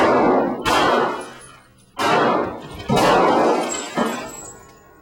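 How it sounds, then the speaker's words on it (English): Pistol shots from a 9mm Beretta fired into panes of treated and untreated laminated glass at an Ottawa gun range, four loud sharp reports spaced about a second apart, each followed by a ringing, crackling decay. "pumping bullets into panes of treated and untreated glass"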